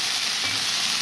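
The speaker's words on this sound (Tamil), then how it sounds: "ஸோ இப்போ இது எல்லாத்தையும் வதக்கிக்கலாம்." Chopped coriander and other chutney ingredients sauté in a hot pan, a continuous loud, even sizzle for a brief moment with no voices.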